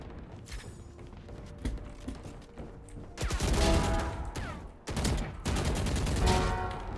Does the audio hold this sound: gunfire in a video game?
yes